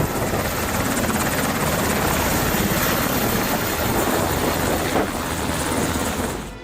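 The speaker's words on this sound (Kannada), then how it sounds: "ಸಿಎಂ ಸಿದ್ದರಾಮಯ್ಯ 2023ರಿಂದ 2025ರ ನವೆಂಬರ್ ವರೆಗೂ ಹೆಲಿಕಾಪ್ಟರ್ ಹಾಗೂ ವಿಶೇಷ ವಿಮಾನ ಬಳಕೆಗೆ 47 ಕೋಟಿ ರೂಪಾಯಿಗೂ ಅಧಿಕ ಹಣ ಖರ್ಚು ಮಾಡಿದ್ದಾರೆ." Loud, steady, close helicopter noise, a dense rotor and engine roar from a state chief minister's Agusta helicopter, continuous without a break.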